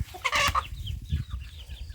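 Free-range chickens of a jungle-fowl-like breed cluck on a rural farm, giving a few close, quick bursts of clucking over a low background rumble.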